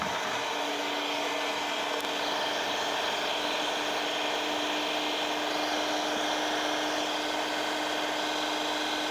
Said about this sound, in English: So let me get a heat gun and warm this up a bit.